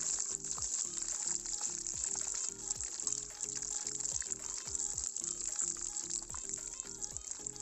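Amritsari fried chicken pieces frying in hot oil make a loud, continuous crackling sizzle with dense bubbling throughout, close up and without speech.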